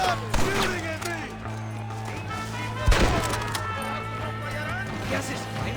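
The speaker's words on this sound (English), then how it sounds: "Stop shooting at me!" Gunfire and impacts in the video game Red Dead Redemption on PS5, a few sharp cracks and thuds including a loud hit near the middle, under shouting voices and a steady game hum.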